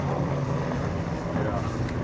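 A 1.97 litre six-cylinder racing car engine of about 80 horsepower runs loud and steady on a museum demo day at the Nürburgring, a continuous low roar with wind buffeting over it.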